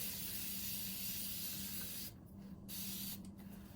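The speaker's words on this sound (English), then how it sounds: "just take a spray bottle, get it completely wet. I spray the front and back." A spray bottle sprays water onto leather with continuous hissing close by, then a few short bursts separated by brief pauses, fairly faint and alone.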